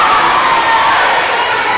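A home crowd of Ladycats fans cheers at a high school volleyball match in a packed, lively gym, a dense wash of shouts and applause sustained throughout.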